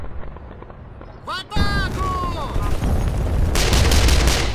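Grenade blasts and gunfire in a war video game: a sudden loud burst, then a dense, rolling barrage that swells near the end, with voices calling out in the middle of the fighting.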